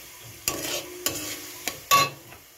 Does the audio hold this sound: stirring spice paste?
yes